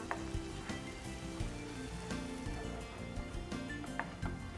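Onions sauté in a pan with salt, turning light golden. A quiet, busy sizzle runs steadily under repeated clinks and scrapes of stirring.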